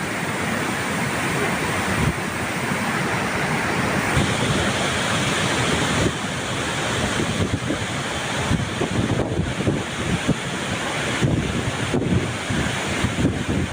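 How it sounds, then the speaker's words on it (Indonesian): Strong seaside wind roaring and buffeting the microphone over steady crashing surf, loud and continuous from start to finish. "kalau dekat suluk itu anginnya kenceng banget"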